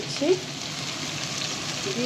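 Ginger garlic paste added to hot oil with fried onions, giving a steady broadband sizzle throughout, with a brief louder crackle near the start.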